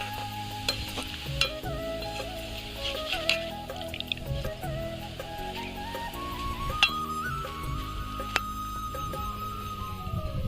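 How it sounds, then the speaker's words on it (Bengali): Gram flour jhuri batter frying in very hot oil on a village stove, a steady dense sizzle with occasional stirring clinks and scrapes throughout, no talking. "এবার আমি এর মধ্যে দিয়ে ঝুড়িগুলো ভেজে নেব"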